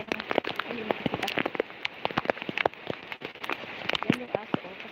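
Rain falls outdoors in a dense patter of close drops striking surfaces, a steady crackling spatter that continues throughout.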